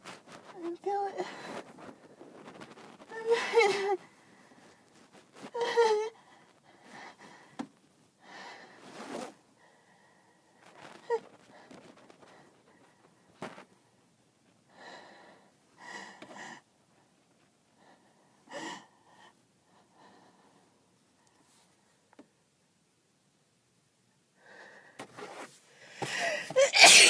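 Someone with a cold works up to a sneeze, with strained gasps, wheezy breaths and snorts in scattered bursts, a long quiet stretch, then a loud burst close to the mic at the end.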